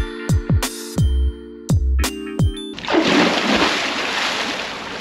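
A person jumps into a hotel swimming pool, a loud close splash followed by sloshing and churning water after a series of sharp clacks.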